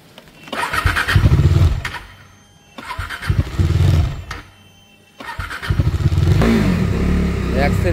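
A Triumph Street 765 motorcycle engine cranks over in two failed bursts with pauses between, then catches on the third try and settles into a loud, steady idle close by, with a voice speaking over it.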